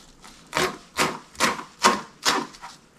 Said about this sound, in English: as we get closer to the leaves, we're going to do some fine mincing